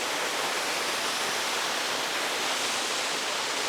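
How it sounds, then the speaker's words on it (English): A waterfall in a Mexican pueblo pours in a constant, loud, broadband roar, close and unbroken, with no voices or other sounds over it. "We even have waterfalls."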